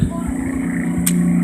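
A rough-running lawnmower engine drones steadily up close with a low, uneven hum and a brief sharp hiss partway through.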